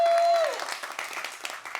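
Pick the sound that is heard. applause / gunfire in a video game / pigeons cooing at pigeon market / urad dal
applause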